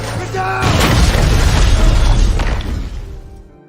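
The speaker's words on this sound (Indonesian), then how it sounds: "ledakan pun terjadi" A bomb goes off in a film scene, a loud booming blast with a roaring, crackling rumble that swells and then slowly dies away.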